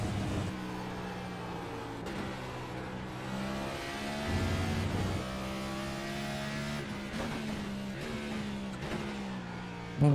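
Race car engine in iRacing at Sonoma revs hard through a series of gear changes and downshifts, pitch climbing and dropping in steps with brief throttle blips, loud and close throughout.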